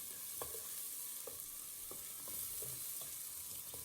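Onions frying in a pan for a Tamil-style lamb curry, a soft steady sizzle with a few light stirring taps, quiet and close with no speech.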